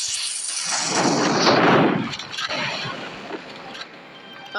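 A grenade explodes in a video game, a loud, close, rushing roar that swells over about two seconds and then fades into a softer rumbling tail, with no talking.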